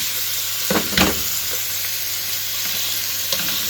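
Turkey mince fries in oil in a pan over low heat, giving a loud, steady sizzle with a few scraping stir strokes near the start and end.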